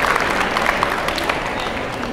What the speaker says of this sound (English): give a round of applause for our volunteers